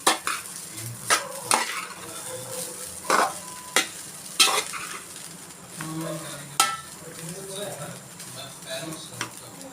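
Egg fried rice being stirred in a hot pan after pepper powder is added, with a steady sizzle under repeated scraping and clinking of a spoon against the metal, close and fairly loud.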